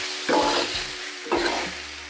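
Noodles frying on a Blackstone griddle in oil, stirred with two distinct scraping sweeps over a steady close sizzle, no talking.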